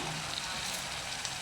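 Food frying in a pan sizzles steadily and loudly up close, a dense continuous crackle with no talk, just before rice is added.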